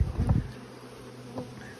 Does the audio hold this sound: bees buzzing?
yes